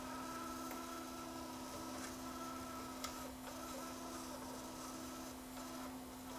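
A noisy bearing in a JVC KD-V300 cassette deck gives a steady mechanical whir with a constant tonal hum, with faint ticking layered over it throughout.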